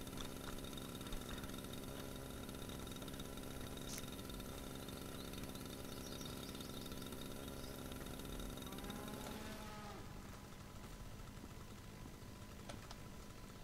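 A lawn mower engine in a lawn mowing simulator game drones at a steady, low idle throughout, faint and continuous with a slight drop in tone near the end; no talking.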